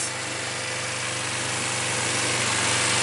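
A Kawasaki Ninja motorcycle engine running steadily at idle, a dense, constant buzzing drone that stays close and loud throughout and swells slightly toward the end, with no speech.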